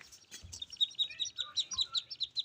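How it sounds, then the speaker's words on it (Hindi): A myna bird calling in a home setting, a rapid run of bright repeated chirps and tweets, fairly close and alone, with a few softer notes and light background noise. "ये ऐना मैना है।"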